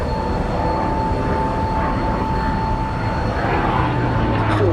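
Bearcat fighter, a piston-engined US Navy plane, passes at an airshow with a steady, loud engine drone and a broad rumble, a sustained tone holding throughout.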